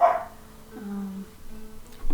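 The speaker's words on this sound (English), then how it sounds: "You don't get to bark. No barking." A dog gives a short sharp bark at the start, then low whines and a brief yip follow, close and fairly loud with no talking.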